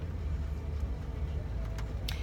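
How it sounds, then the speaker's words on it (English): A warmed-up car engine idles steadily with a low, constant rumble, close and unbroken, on a rainy day, with faint higher noises briefly rising near the end. "So now my car is warm"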